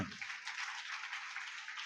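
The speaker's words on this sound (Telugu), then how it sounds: "చప్పట్లు పట్టండి అందరూ" Church congregation clapping their hands together during a service, a dense, steady patter of many hands a little way off, fairly soft and continuous, with no speech over it.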